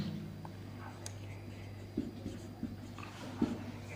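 Pen writing on paper during a Class 10 polynomials math lesson, with a few soft scratchy strokes and light taps over a steady low hum, close and quiet.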